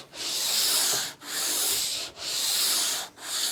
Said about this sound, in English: Trying to keep the sandpaper flat and even on the base